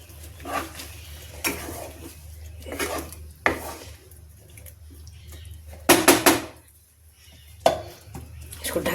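A metal lid set onto a cooking pot of pumpkin, potato and water curry, a few clattering impacts of pot and lid, loudest as a sharp cluster near the middle, over a low steady hum.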